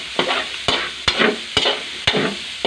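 Onions frying in a pan with a little salt, a bright sizzle broken by five sharp scrapes of a utensil stirring at a steady rhythm, close and loud.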